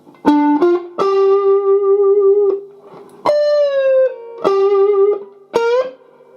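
Electric guitar with distortion slowly plays a riff, a few loud picked notes held and sliding between pitches, alone with short gaps.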